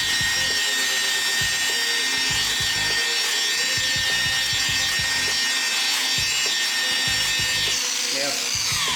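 A rotary buffer polishing freshly colour-sanded paint on a Ford BOSS XC car, a continuous loud whirring and rubbing drone with uneven low thumps and scuffs as the pad moves across the panel.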